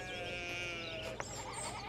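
Sheep bleat in a medieval village scene from the video game Pentiment, a few wavering cries close by over a soft ambient background.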